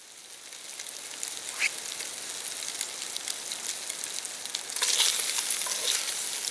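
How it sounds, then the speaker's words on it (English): Sausage browns in a pot over coals for gumbo at a campsite, giving a soft, steady sizzle that grows slightly louder and crackles more toward the end, with no talking. "that should help me brown up the sausage a little bit more"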